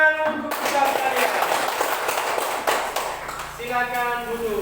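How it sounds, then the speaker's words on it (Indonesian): A class of students in a classroom bursts into a few seconds of brisk, dense clapping, with a voice talking just before and again as it fades. "Tepuk tangan untuk kita sekalian."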